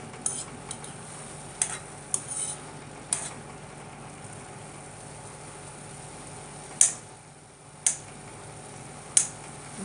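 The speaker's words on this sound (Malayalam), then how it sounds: "ഒന്ന് ഇളക്കി കൊടുക്കാം." Ash gourd olan simmering in a pot, with a spoon stirring and clinking against the sides in a handful of sharp, scattered taps over a quiet, low bubbling background.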